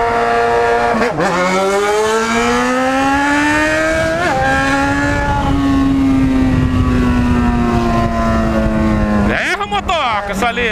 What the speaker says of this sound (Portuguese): Olha esse carro, ó.